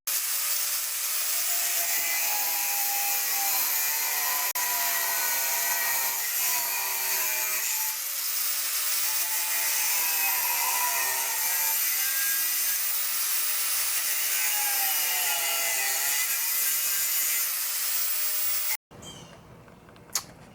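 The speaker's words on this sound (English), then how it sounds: "I picked up a piece of bronze at the foundry and brought it over here, and I'm going to cut it" A piece of foundry bronze cut for a latch plate, with a long, loud, steady high-pitched saw whine that wavers slightly in pitch, then stops abruptly and leaves a quiet tail with one brief clack.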